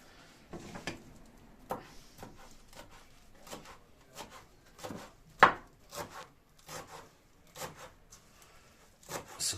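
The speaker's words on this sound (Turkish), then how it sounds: "ince ince kıyıyoruz" A knife chops vegetables for meat tantuni on a board, giving a quick run of dull wooden knocks and rasping cuts in uneven bursts, close and moderately loud, with no talk.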